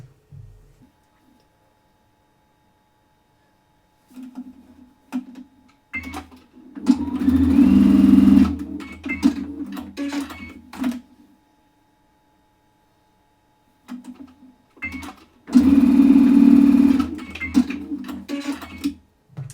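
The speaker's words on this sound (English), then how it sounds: "So let's get sewing this together." A sewing machine stitches quilt block pieces together in two loud bursts of steady whirring, separated by quieter stretches of short clicks and handling noise.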